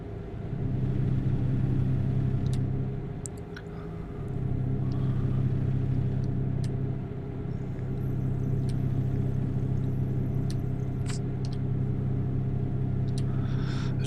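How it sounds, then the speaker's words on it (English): A truck engine in American Truck Simulator runs with a steady, loud mid-range drone and rumble throughout, with a slight dip in level partway through. "Because I can tell by the engine sound."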